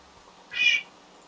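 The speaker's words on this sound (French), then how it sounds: "Le chat." A single short cat meow sounds in Hypixel Skyblock, a clear, close game effect over near silence.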